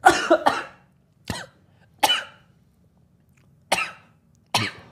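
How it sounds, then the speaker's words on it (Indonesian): A man coughing repeatedly after choking on a drink, about five harsh bursts, the first a rapid cluster and the rest spaced singly with quiet between, loud and close. "Jadi batuk."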